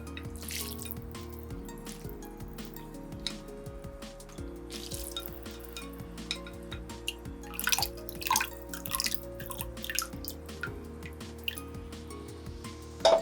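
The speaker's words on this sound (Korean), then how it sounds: "이렇게 익혀준 면은 찬물에 식혀줄 겁니다." Cooked Shin Ramyun noodles are rinsed under cold water in a sink. Running water trickles steadily while drips and soft squishy handling sounds repeat throughout, fairly quiet and with no talk.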